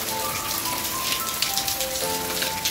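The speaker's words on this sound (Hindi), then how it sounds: "तेज बारिश हो रही है, साथ बिजली भी चमक रही है" Heavy rain pattering on a surface at night, dense and continuous, with a faint tonal hum underneath.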